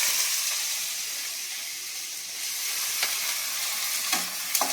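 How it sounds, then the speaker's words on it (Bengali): Onions frying in oil in a wok make a steady, close sizzling hiss, with a few brief clinks and scrapes of stirring toward the end. "কড়াতে তেল দিয়ে দিয়েছি, এবার পেঁয়াজগুলো ভেজে নেবো"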